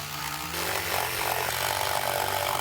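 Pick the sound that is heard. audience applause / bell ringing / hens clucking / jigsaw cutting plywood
jigsaw cutting plywood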